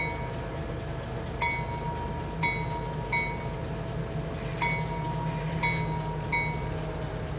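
In Farming Simulator 25, a train engine pushing cars hums and rumbles continuously while short, repeated high-pitched tones chime over it, with no talking.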